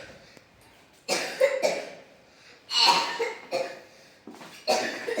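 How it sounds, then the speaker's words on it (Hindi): A young child coughs at home, a series of close, harsh coughs in several bursts separated by short pauses, with no talking. "खांसी हो गया,"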